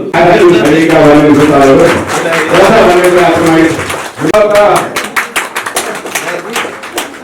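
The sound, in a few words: audience applauding to honour the chief guest at a village assembly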